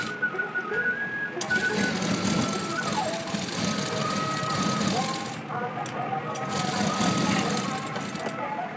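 A sewing machine stitches a princess cut blouse, running in steady continuous bursts with a brief pause midway, close and fairly loud, with faint talk underneath.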